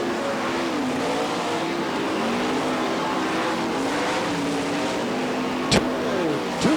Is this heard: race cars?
yes